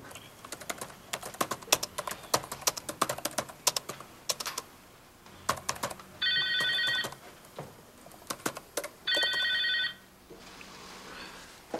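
A telephone rings twice in short electronic bursts over steady keyboard typing in an office-like room. The clicking keys are close and run nearly throughout.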